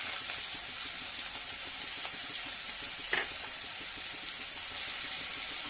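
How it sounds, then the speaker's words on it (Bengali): A cup of chopped onions fries in a pan of oil with a bay leaf for an egg dish, making a soft, even sizzle with one brief clink partway through and no speech. "পেঁয়াজ খুব সুন্দর মতো ভেজে নেব।"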